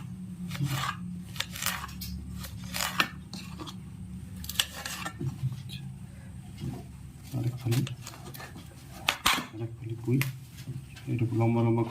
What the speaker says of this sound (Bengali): ছুরি দিয়ে আমি কাটছি